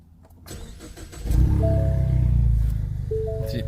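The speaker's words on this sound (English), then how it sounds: "I'll go ahead and start the car back up." A 2015 Ford Mustang EcoBoost engine cranks briefly and catches, then settles into a steady, close idle rumble.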